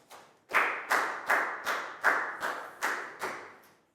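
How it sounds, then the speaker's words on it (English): A small class claps for a student in an English lesson, giving about eight loud, evenly spaced claps in unison, each one sharp and ringing briefly, with no talk. "Big round of applause for Prel"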